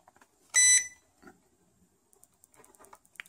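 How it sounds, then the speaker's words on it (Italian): A single loud electronic beep with a bright, steady tone from an MJX X300C drone remote control pairing, followed by faint clicks and soft handling noises in an otherwise quiet setting. "avete sentito questo beep? Vuol dire che ha agganciato."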